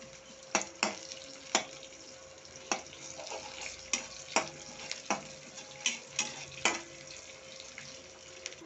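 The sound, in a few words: onions frying for tomato curry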